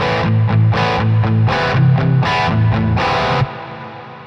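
An electric guitar plays through stereo reverb on a Sonicake Pocket Master with no dampening: a run of strummed, distorted chords in a steady rhythm, with a bright wash that rings on briefly after the last chord.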